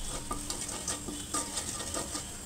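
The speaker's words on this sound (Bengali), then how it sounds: "দিয়ে দিব কুচি করে রাখা সামান্য পরিমাণে নারকেলটাকে ভালো করে ভেজে নিয়ে" Chopped coconut fries in a little hot oil in a pot, with a soft continuous sizzle broken by light scraping and stirring clinks.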